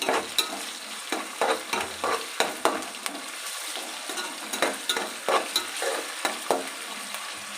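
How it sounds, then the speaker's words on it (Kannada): Ginger garlic paste frying and being stirred in a pan for egg fried rice, with a steady close sizzle broken by repeated scraping stirs. No one speaks. "ಇವಾಗ ಶುಂಠಿ ಬೆಳ್ಳುಳ್ಳಿ ಪೇಸ್ಟು ತುರಿದಿದ್ದೀನಲ್ವ ಅದನ್ನು ಹಾಕ್ಕೊತ ಇದ್ದೀನಿ"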